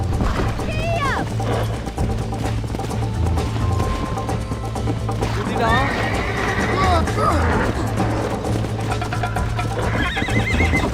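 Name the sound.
horse galloping in video game Red Dead Redemption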